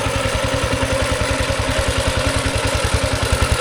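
A walking tractor ploughs a wide rice field in Laos, its single engine chugging in a fast, even rhythm of loud thumps with a rattling clatter on top, close by and unbroken, with no speech.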